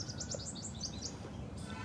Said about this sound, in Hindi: जब चारों तरफ प्रकृति ही हो, चिड़ियों की आवाज़ हो